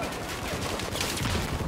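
Dense, rapid gunfire in Battlefield 4, a loud, continuous fusillade of overlapping shots packed into a short burst with no break.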